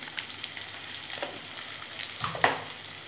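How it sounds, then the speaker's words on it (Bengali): Onions salted and frying in a pan give a soft, close sizzle, with light scraping taps from a stirring spoon scattered through it and a slightly sharper scrape near the end. "ভালো করে পেঁয়াজটা আমি ভেজে নেবো"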